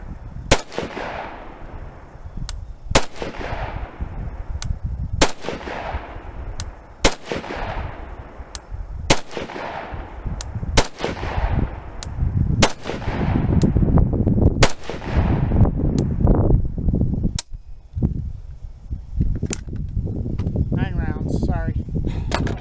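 A Sig Sauer 556xi rifle fires ten rounds in a steady sequence of loud, sharp cracks spaced roughly two seconds apart, each followed by a ringing echo, with rumbling background noise building toward the end.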